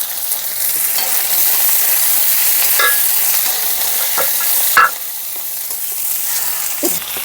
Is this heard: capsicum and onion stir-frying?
yes